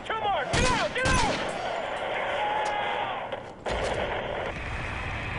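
Gunfire in Call of Duty Modern Warfare 3, loud close bursts of rapid shots in the first second or so, then further scattered shots mixed with game noise and voices talking.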